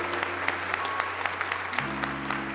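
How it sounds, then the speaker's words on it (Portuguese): A church congregation applauds during a worship service, a steady wash of many hands clapping at once with a sustained low hum and organ-like tones underneath, fairly loud and even throughout. "dava mais um aplauso bem forte ao Senhor Jesus"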